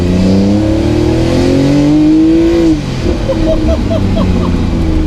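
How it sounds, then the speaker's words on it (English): A W Motors Fenyr SuperSport hypercar engine climbs in a loud rising rev, then drops sharply on a downshift into a burbling, popping overrun, heard close and strong throughout. "Let me just drop it down a couple of cogs."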